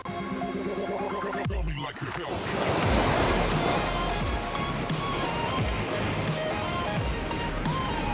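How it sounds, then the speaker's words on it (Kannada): Sea surf rolls and crashes on Velankanni beach, a steady loud wash of breaking waves with gusty wind rumble against the microphone and no voices. "ಕಡಲಲೆಗಳ ಭೋರ್ಗರೆತದ ಸದ್ದು ನೀಡುತ್ತಿತ್ತು ನನ್ನ ಮನಸ್ಸಿಗೆ ಹಿತವಾದ ಮದ್ದು"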